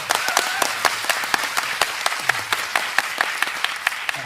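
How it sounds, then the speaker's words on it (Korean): Audience applause at a film premiere Q&A screening with director Hong Won-chan and actor Park Jeong-min: many hands clapping in a large hall, sharp claps standing out over a steady wash, sustained throughout. "만족감이 크게 드셨다면 큰 박수 부탁드립니다."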